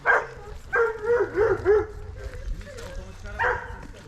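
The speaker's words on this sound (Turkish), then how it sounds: "Her taraf köpek." A few dogs bark in short bursts, some high yips mixed in, at moderate distance with a steady outdoor background on a nature trail near a waterfall.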